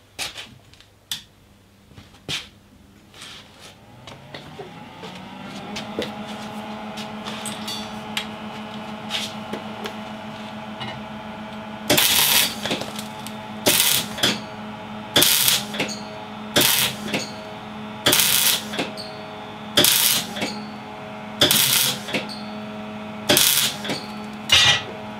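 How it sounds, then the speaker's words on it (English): A welder fills a drilled hole in short pulses: a steady humming buzz builds, then about nine sharp, crackling bursts of weld arc follow at a regular rhythm, close and fairly loud. "So doing it in short pulses of weld"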